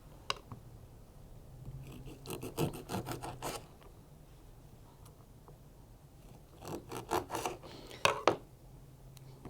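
A knife rasps back and forth through limes for a margarita, two short bursts of close, gritty sawing strokes separated by a quieter pause.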